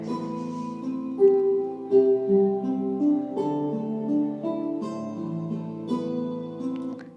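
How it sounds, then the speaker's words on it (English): Guitar playing a short melodic passage of plucked notes and chords, clear and close with no talking. "This is the sound of guitar"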